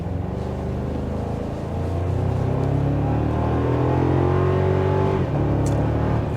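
A 2024 Toyota Tacoma truck engine pulls steadily under load, its rising drone joined by light turbo whooshing, close and continuous with no talk.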